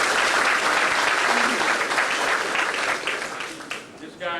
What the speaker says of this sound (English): if you give him a round of applause